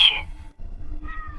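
A cat with a broken leg, in pain before surgery, lets out one short, loud, close meow, then falls to a low murmur of background noise.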